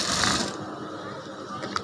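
A sewing machine runs in a short burst of fast mechanical whirring while stitching a simple top, then quiets to a softer rattle with a faint click near the end.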